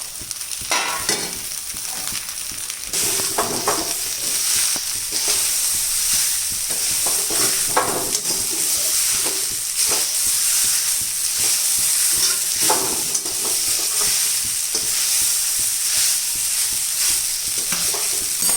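Cooked rice stirred into roasted gram flour and oil in a pan, a steady loud sizzle with repeated scraping strokes of the spoon throughout, no talking.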